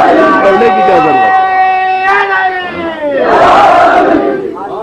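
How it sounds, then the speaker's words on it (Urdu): A large majlis congregation chanting slogans of Mola Ali during a Muharram gathering, loud massed voices rising together in sustained, pitched cries that swell and overlap, with a second louder surge near the end. "آپ مولا علی کے نعرے لگاتے ہیں"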